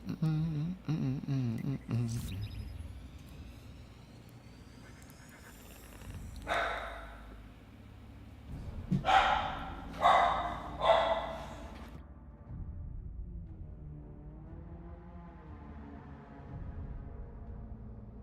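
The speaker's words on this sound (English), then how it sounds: "I like how the dog's barking at the delivery person." A dog barks at a delivery person in a quick cluster of three or four loud yaps near the middle, with fainter whimpers and yips around them and an indoor background hum.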